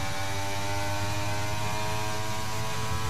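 Formula One car engines in F1 23 race down the Las Vegas Strip, a steady loud droning whine with layered harmonic tones held throughout, no talk.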